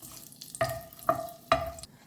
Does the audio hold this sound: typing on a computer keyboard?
no